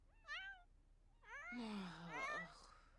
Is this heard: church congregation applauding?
no